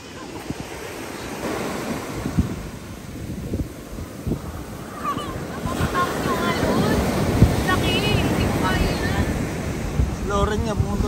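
Ocean surf rolling onto a beach during skimboarding, a continuous rushing wash with wind buffeting the microphone, rising louder in the second half, while people call out and talk over it.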